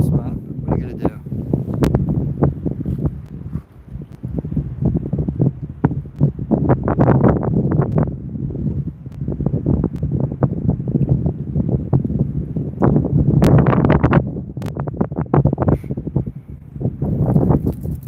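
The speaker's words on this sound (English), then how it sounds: "Wind's whipping in this spot." Wind whips across an outdoor riverside spot and buffets the microphone in a continuous rumble that swells and eases. A person talks through it.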